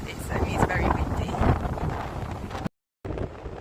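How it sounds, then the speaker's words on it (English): Strong wind buffets the microphone at Windy Corner on the North Devon coast, a loud rumbling roar with gusty surges that cuts out abruptly near the end, then resumes briefly. "It certainly is very windy."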